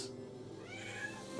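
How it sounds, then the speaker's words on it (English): Two male house cats squabble in a brief, close, tense meow with a drawn-out wavering cry, loud and alone. "oh, that's an upset cat."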